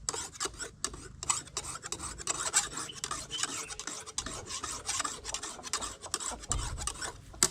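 A blade is sharpened by hand with steady rasping strokes in a village yard, rhythmic scraping repeated close up with no machine and no voices.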